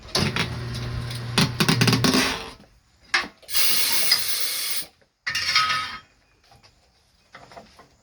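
A Mayflower 960 tire machine mounting a tire, heard as bursts of mechanical whirring and grinding broken by short gaps and sharp hissing air blasts, loud and close with no talk.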